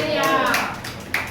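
A church congregation claps along during a worship song while voices sing and talk over them, with a few sharp hand claps standing out near the end.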